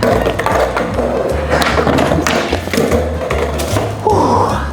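Skateboard on very large wheels rolling loudly over pavement with repeated thumps and clacks of landings and board impacts, continuous and close.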